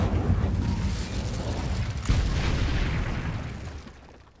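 A fire spell erupting in a video game, a sustained loud whooshing roar with a sharp burst near the middle, fading out at the end.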